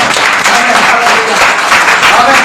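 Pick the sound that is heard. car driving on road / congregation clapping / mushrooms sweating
congregation clapping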